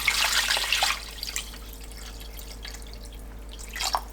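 Water runs into a cooking pot for broth, 1.5 liters poured in a steady splashing stream at first, then fading to quiet drips before a brief final splash.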